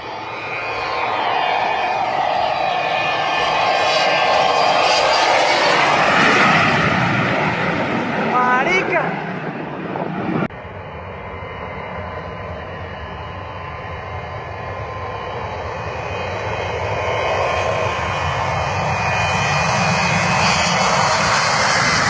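Passenger airplane engines roar loudly during a runway overrun, a heavy sustained drone with shifting whines that drops abruptly partway through and then continues as a steady rumble, close and loud with voices mixed in.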